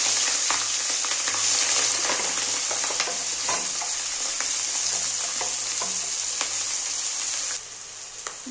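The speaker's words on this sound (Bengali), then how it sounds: "এবার আমি কাঁচা লঙ্কা আর পেঁয়াজগুলো ভেজে নেব।" Green chillies and onions fry in a pan of oil for a mutton dish, giving a loud, steady sizzle with scattered stirring clicks and scrapes throughout, no voices.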